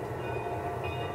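A passenger train rolls into a railroad station, heard as a brief low steady rumble with a faint high whine on top, moderately loud and even, with no voices over it.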